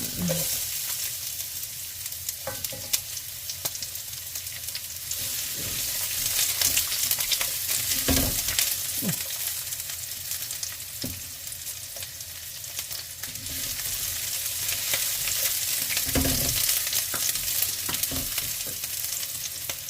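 Garlic and onion frying in olive oil for a beef stir-fry, a steady close sizzle throughout with several sharp clatters of stirring and pan contact at irregular intervals.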